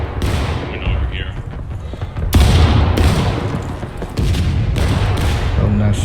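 Rifle fire rings out in the Civil War shooter War of Rights, with several heavy booming shots at irregular moments, some near and some farther off, while players talk over them.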